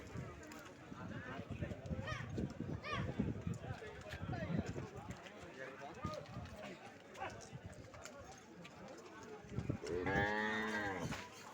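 Cattle at a crowded bull market in Anantapur, with loud moos rising over steady crowd chatter and people talking nearby; one long, strong bellow stands out near the end.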